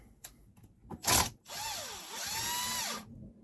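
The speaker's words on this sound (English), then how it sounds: "let's remove those screws again" A cordless drill unscrews screws from a Mercury boat binnacle remote control. A short burst comes first, then a longer whirring run that rises and falls in pitch as the screw backs out, close by with no talking.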